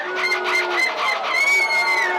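Crowd of people at the Dunkirk carnival in France imitating seagull calls in a contest, several overlapping shrill, wavering voices crying out loud and close, one after another.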